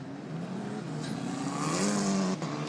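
Italian F4 single-seater race cars powered by Abarth engines snarl through the chicane splitting the Mistral Straight at Paul Ricard, with engine notes rising and shifting as the cars pass fairly close under steady track noise.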